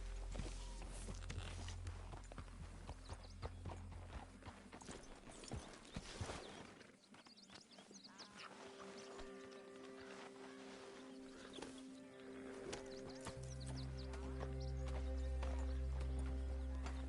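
Horse hooves clip-clop at a walking pace amid Red Dead Redemption 2 game sounds, with a low rumbling background that shifts partway through.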